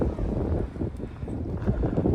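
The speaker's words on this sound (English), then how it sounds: "So it's still windy, but the wind is not as strong as it was, but still pretty blustery." Strong, blustery wind roars across the microphone in steady gusts, a dense low rumble that rises and falls without pause.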